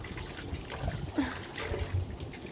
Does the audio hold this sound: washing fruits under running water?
yes